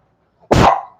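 A dog gives a single loud, sharp bark close to the microphone, and nothing else is heard around it.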